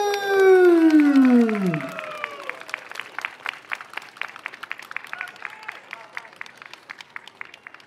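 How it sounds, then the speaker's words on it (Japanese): A crowd at a yosakoi dance festival in Tohoku claps in sparse, scattered applause of distinct individual claps, which begins just after a loud falling tone and continues lightly to the end. "わだち拍手。"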